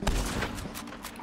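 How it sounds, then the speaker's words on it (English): Rapid gunfire bursts in the Red Dead Redemption 2 video game, a loud close volley of cracks packed into a second. "Where them shots coming from?"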